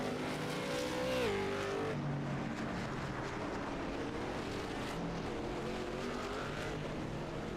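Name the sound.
late model race cars practicing at North Wilkesboro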